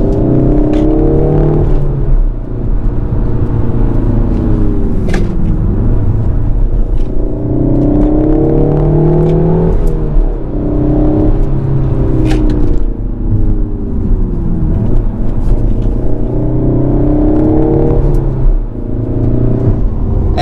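Peugeot 308 GTi in sport mode with synthesized engine sound played through the cabin speakers, a loud continuous droning hum that rises and falls in pitch in repeated waves, heard alone.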